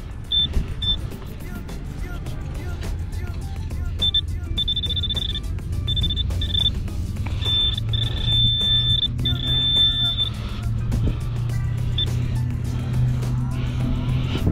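A metal detector pinpointing a target on a beach gives repeated high electronic beeps, some short and some held, over steady low rumbling background noise.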